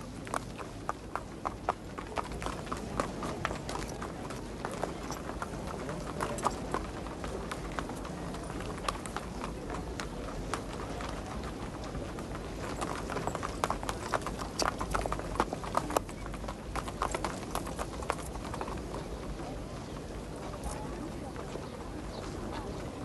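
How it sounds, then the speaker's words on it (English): Racehorses at a racecourse, hooves clip-clopping in a steady run beneath a busy crowd and a voice talking throughout. "And here at the racecourse, miles away from the betting shop, are the horses themselves."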